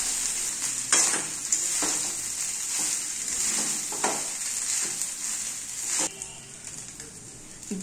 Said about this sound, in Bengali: একটু নেড়ে চেড়ে নিচ্ছি।